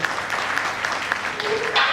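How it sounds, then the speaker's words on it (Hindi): An audience claps for a speaker on stage at a training event, with quick, close hand claps in a busy patter and voices mixed in beneath the applause. "पर आज भाई के लिए ताली"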